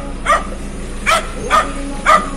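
A dog barks four times in short, evenly spaced yelps, close and fairly loud over a low background hum.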